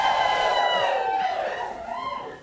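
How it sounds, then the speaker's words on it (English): A television studio audience whoops and cheers, with raised voices blending into a bright, ringing swell that fades out after about two seconds. "Give him a round of applause."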